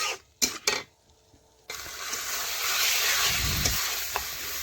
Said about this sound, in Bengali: এখন চিকেনটাও ভালোভাবে মশলার সাথে এইভাবে নাড়তে নাড়তে দেখুন আমি মিশিয়ে নিচ্ছি।